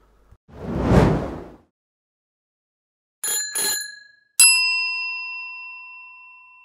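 A notification sound effect: a loud whoosh rises and fades, then after a pause comes a double metallic ding, followed by a bright bell strike that rings out and slowly decays, with no voices.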